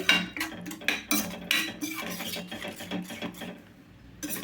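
A spoon stirs yogurt into curry gravy in a pan, producing close metallic scrapes and clinks in quick bursts that gradually soften into quieter scraping.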